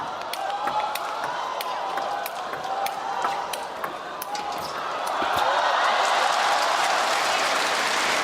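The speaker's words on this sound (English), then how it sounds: "You can hear the crowd gasping with amazement." Table tennis balls tick back and forth in a men's singles world championship final, then an arena crowd swells into a broad wash of noise near the end, with a commentator talking over it.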